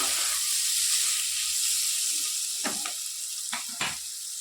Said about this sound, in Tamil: வெங்காயம் நல்லா வதங்கிடுச்சு இன்னும் கொஞ்சம் நேரம்